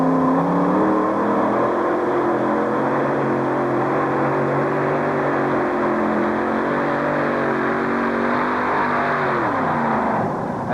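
A pulling vehicle revs hard down the track dragging a weight-transfer sled at a 1991 USHRA event in Uniondale, its engine note loud and sustained, then dipping near the end.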